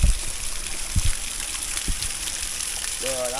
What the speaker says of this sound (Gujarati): જે હલ્દી ઘાટી છે એના જે પહાડો છે એમાંથી જો સરસ મજાનો ધોધ પડે છે.